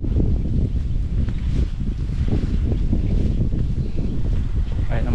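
Strong wind buffets the microphone outdoors with a steady, loud rumbling roar and gusty swells, under faint background voices.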